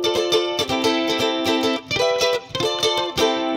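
An Ibanez RG ukulele is strummed and plucked through a chorus pedal's shimmering effect, playing bright chords in a lively, bouncy rhythm with no voices.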